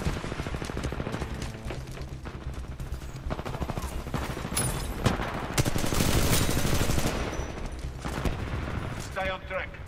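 Full-auto gunfire in the video game Titanfall: sustained rapid bursts of automatic weapon fire fill the mix, swelling louder in a dense stretch midway, with a voice talking underneath.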